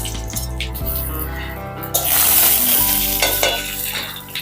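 Cumin seeds and dried red chillies sizzle in a little hot oil, a close crackling spatter that swells sharply into a loud hiss partway through and stays bubbling, with no speech.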